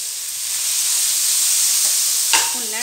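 Onions sizzle steadily in hot oil in a pan for lemon pepper chicken, a continuous bright frying hiss with a faint scrape of stirring near the end.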